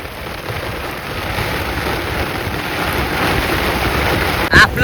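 Heavy pre-monsoon rain pours down around a shepherds' encampment, a dense, steady hiss of downpour on surfaces that stays loud throughout, with a brief knock near the end.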